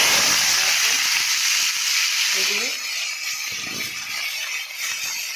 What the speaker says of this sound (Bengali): আমি যে টমেটো আর পেঁয়াজ দিয়ে দিলাম কড়াইতে।